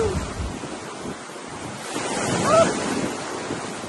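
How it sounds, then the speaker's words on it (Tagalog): Heavy surf and rushing water with strong wind buffeting the microphone, and a brief excited shout partway through. "Grabe, lakas ng alon guys."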